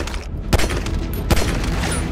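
Two sharp gunshots go off about a second apart in a GTA 5 horror mod, loud against a dense, rumbling game background.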